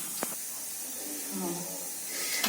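Steam hisses steadily from a pressure cooker still releasing pressure after cooking a spicy mutton liver masala fry, a continuous broad rush over the whole stretch with a voice talking over it.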